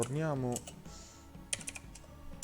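A short burst of clicks on a computer keyboard as a command is typed, heard close and fairly quiet right after a brief spoken phrase.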